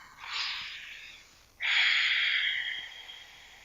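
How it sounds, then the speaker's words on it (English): Ujjayi yoga breathing through the nose: two close, airy, ocean-like breaths, a shorter one followed by a longer, steadier one, heard alone with no talk. "start off with just a few rounds of Ujjayi breathing, which is like the breath where it sounds like the ocean"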